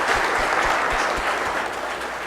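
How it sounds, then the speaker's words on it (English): Loud, full audience applause in a university session room, a dense roar of clapping hands close by that holds steady and eases slightly toward the end. "let's give them both a big hand of applause"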